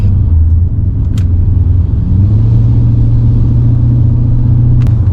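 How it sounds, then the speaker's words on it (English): A BMW E38 740i L with its V8 exhaust gives a loud, deep, steady rumble close by, the drone holding through the clip and lifting slightly partway as the engine pulls, with no talking. "It's just a shame having a radio in such a car when you have such amazing exhausts in the back"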